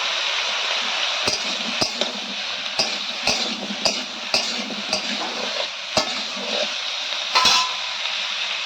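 Eggplant and capsicum pieces sizzle in hot oil with chopped tomato and other vegetables for a Bengali chorchori, a steady frying hiss broken by a spatula's sharp scrapes and clinks against the pan at irregular intervals.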